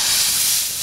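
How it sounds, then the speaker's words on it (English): Fat dropped into boiling water for cooking deer and pig hisses loudly and steadily at close range for a brief moment, like a burst of steam, with no voices. "Just gonna just put our fat in there."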